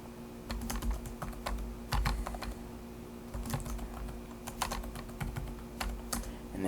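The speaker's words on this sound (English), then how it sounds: "And then you're going to type the address." Steady keystrokes on a computer keyboard while an address is typed into a word processor, irregular clicks and clacks in short bursts, close and fairly quiet over a low background hum.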